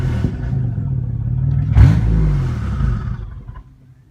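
A Camaro twin turbo engine on a build with cheap eBay turbos idles and then gives one sharp rev that swells and falls away, a close, loud rumble fading toward the end.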